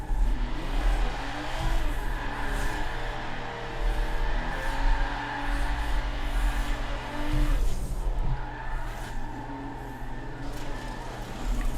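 A car engine revving and wavering through continuous figure-eight turns, with rising and falling engine tones and occasional tire squeal, steady and fairly close throughout, with no talking.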